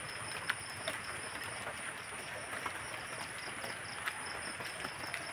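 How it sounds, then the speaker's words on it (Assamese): Steady rain falls outdoors near a field crop, a dense even hiss with scattered louder drops and a faint high electrical tone running throughout; no one talks. "কিবা বৰষুণ দি আছে"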